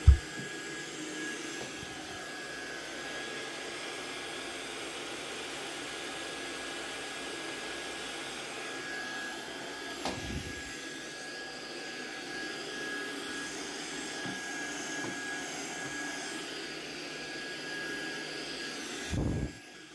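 Ultenic U11 cordless stick vacuum cleaner running at max power, a steady high-pitched motor whine with airflow hiss, close and continuous, with brief bumps as the head moves across the floor.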